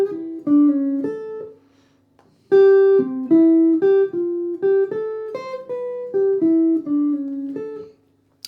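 Single jazz guitar playing a back-cycle line over a 1-6-2-5 turnaround in C, clean picked notes in two short phrases separated by a brief pause, moderately loud and close with no talking.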